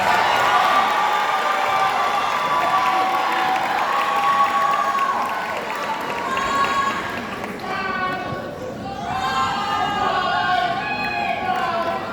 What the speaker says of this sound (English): Huge round of applause for these guys.